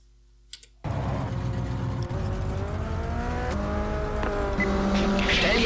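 A race car engine runs in the pit in the GTR 2 racing game, bursting in after a short quiet moment and then droning loud and steady with a rising, tonal hum.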